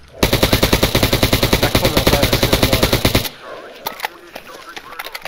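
Loud, rapid automatic AK rifle fire in a video game, a sustained burst of evenly spaced shots lasting about three seconds, then a few scattered clicks and clatter as it stops.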